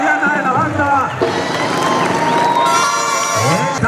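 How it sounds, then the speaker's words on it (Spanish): A crowd at a jaripeo rodeo cheers, whoops and claps. The noise is loud and steady and lasts the whole clip, with a band playing and voices shouting through it. "Y hay aplausos, público, hay aplausos."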